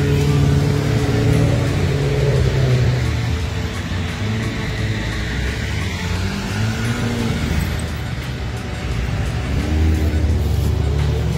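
A Chevrolet Corvette C8 test mule pulls away from a road stop, its engine giving a steady, moderately loud droning hum with gentle throttle and no sharp revving.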